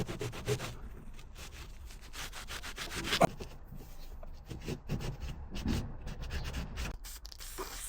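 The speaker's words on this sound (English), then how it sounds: "I'm going to give it one more wipe down" Repeated rubbing strokes of a rag across a Transporter T6 van panel, a rhythmic brushing scrape that comes and goes, close and fairly quiet.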